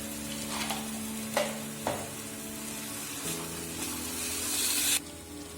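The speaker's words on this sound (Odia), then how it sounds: "ଦେଖନ୍ତୁ ଏ ମସଲାଟି କିଛି ସମୟ ଭାଜି ହୋଇଗଲାଣି।" Masala paste frying and being stirred in a pan for an Odia-style soyabean curry, a steady close sizzle with a few scraping stir strokes and brief louder spatters.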